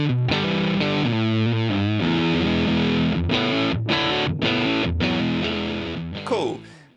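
Bass guitar played through a Fallout Cloud pedal with the overdrive applied only to the low end, giving a loud, gritty, distorted line of sustained notes and short stabs while the upper tones stay clean, then fading out.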